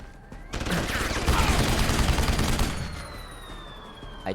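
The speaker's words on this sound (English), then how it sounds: "Okay, so it's like a Gatling gun. It spins up first." Gatling-style gun in Deus Ex: Human Revolution spinning up and then firing a dense, sustained burst of rapid shots, loud and close, tapering off into a fading whir after a few seconds.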